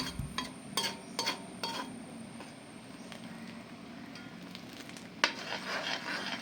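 Cardamom pods dropped into a hot pan as jackfruit sweet is cooked, a steady low sizzle with scattered clinks and scraping strokes of stirring, close and fairly quiet, with one sharper knock near the end.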